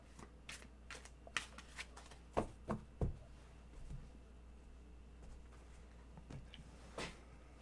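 A deck of tarot cards being shuffled, soft riffling and tapping in short bursts, close and quiet against a low background hum.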